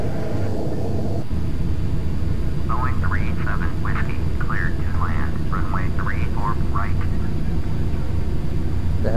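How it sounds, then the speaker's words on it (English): An airliner in Flight Simulator X rolls onto the runway on landing, its engine roar steady and loud throughout, while a voice talks over it in the second half. "my flight is flying onto the runway"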